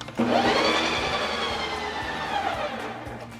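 A Ninja Creami machine re-mixes a tub of butter pecan ice cream, giving a steady loud whirring motor drone with a grinding edge that holds nearly unchanged for several seconds.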